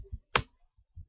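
A few sparse clicks from a computer keyboard, with one sharper keystroke among softer taps, heard close and quiet with no talking.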